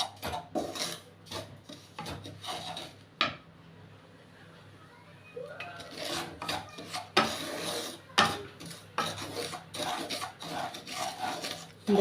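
Semolina being dry-roasted and stirred in a wok (kadai) for upma: steady scraping and rasping of the spatula against the pan in repeated strokes, close, with a brief quieter pause midway.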